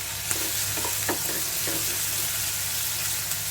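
A paste of ground garlic, onion and cumin fries in hot oil for shrimp bhuna, giving a steady close sizzle with a few soft scraping stirs of a spoon, no voices.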